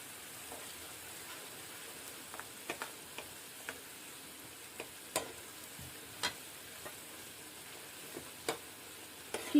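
Semolina being stirred into boiling water in a pan for a breakfast dish, soft bubbling hiss with irregular light scraping ticks of the spoon, faint and close with no voices.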